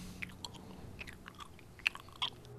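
Someone chews gum in a quiet indoor setting, with faint, irregular wet smacks and small clicks spread over a couple of seconds and no talking.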